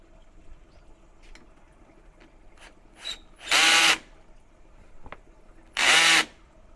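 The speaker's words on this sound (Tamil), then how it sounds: "இப்போது இந்த பக்கம் ஒரு 22 இன்ச் பைப் வச்சு டைட் பண்ணிக்க வேண்டியது தான்." A clamp is tightened onto a 22-inch pipe: a few scattered mechanical clicks and taps, then two loud, steady bursts of a power tool, each about half a second, separated by a short pause.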